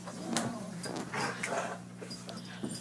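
Puppies whimper and yip in short, high-pitched cries, scattered and close by. There is some faint background noise and no clear talk.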